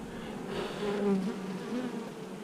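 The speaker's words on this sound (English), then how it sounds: "We got tons of bees here" Honeybees drone in a dense, steady buzz inside an open hive with sealed brood, a close, continuous hum swelling and easing slightly.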